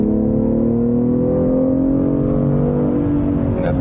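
Car engine pulling hard on the motorway while overtaking a truck, a steady loud drone with rising tonal harmonics through the whole stretch, no talk.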